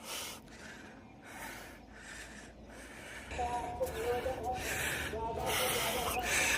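Heavy, rhythmic panting and gasping breaths from someone who has just climbed uphill to a hilltop Kali temple at Shahpura, Rajasthan, close to the mic and growing louder, with a brief voice in between.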